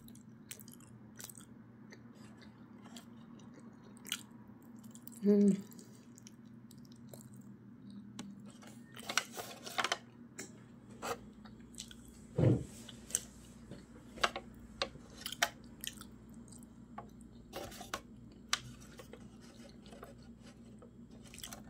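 Siomay being chewed close to the mic: scattered soft bites and wet mastication clicks in an irregular rhythm over a quiet room with a low steady hum.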